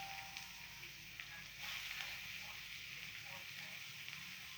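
Chopped onion frying in hot oil in a pan at the start of an egg curry, giving a faint, steady sizzling hiss that continues without a break.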